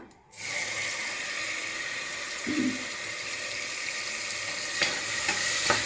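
Tomatoes dropped into hot oil with mustard seeds and cumin for a wedding-style thin rasam, giving a steady, close sizzle that holds loud throughout, with a few soft clinks of a spoon or pan.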